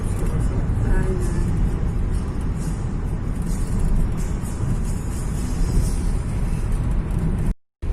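Car driving along a road toward Brussels, a steady broadband rumble of engine and tyre noise filling the whole stretch, close and continuous, with no one speaking.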